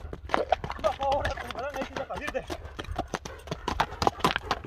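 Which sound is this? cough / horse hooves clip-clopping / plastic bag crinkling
horse hooves clip-clopping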